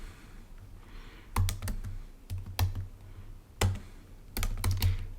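Someone types code on a computer keyboard in short clustered bursts of crisp keystrokes, close and clear, separated by brief pauses in a quiet room.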